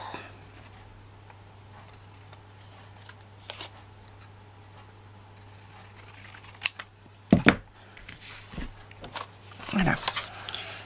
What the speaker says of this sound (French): je vais recouper avec mes ciseaux parce que je ne trouve pas que ce soit joli